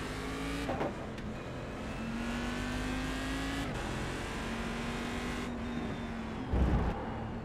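A Cadillac CTS-V race car on the Indianapolis road course holds a steady, loud engine drone with shifting pitch and brief gear-change breaks, as if heard from inside the car.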